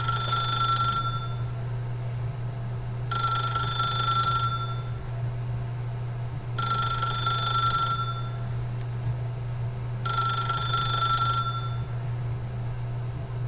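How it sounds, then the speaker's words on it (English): A telephone rings in The Stanley Parable video game, four evenly spaced bursts of bright electronic ringing over a constant low hum, left to ring unanswered. "I don't think I want to pick up the phone. I'm just gonna sit there and let it ring."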